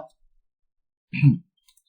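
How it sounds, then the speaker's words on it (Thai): A single crisp computer mouse click sounds close and isolated in near silence, with a faint tick at the very start. "ผมจะคลิกจาก ซ้ายมาขวา นะครับ"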